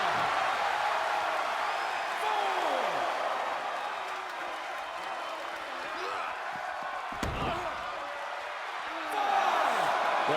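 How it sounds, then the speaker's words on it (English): Video game arena crowd in WWE 2K22 roars steadily through a wrestling match, a broad continuous cheer with a sharp slam-like hit in the middle and swelling again at the end, with commentary voices over it. "The sound of this crowd is deafening"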